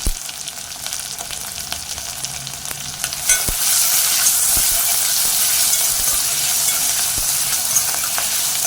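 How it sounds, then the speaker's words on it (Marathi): Onion and tomato tempering frying in a pan for a Malvani val birde dish, a steady sizzle that swells louder midway and continues as a dense hiss, with occasional stirring knocks. "फोडणी चांगली गुलाबी होईपर्यंत परतवून घ्यायची आहे"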